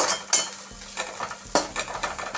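Pulao masala being fried and stirred in a pan, with a spoon scraping and clinking against the metal in a few quick strokes over a soft sizzle, close and fairly loud.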